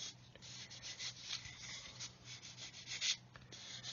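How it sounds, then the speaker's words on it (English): A new sanding stick rubs along the seams of a Revell 1/144 Apollo Saturn V plastic model kit, producing faint, soft, repeated scratchy strokes in an uneven back-and-forth rhythm. "You can see these sanding sticks"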